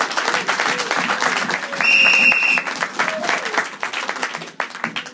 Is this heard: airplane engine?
no